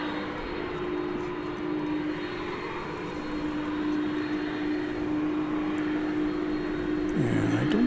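A steady, rushing roar of an airplane engine at DFW Airport holds constant throughout, with a faint tonal hum running underneath.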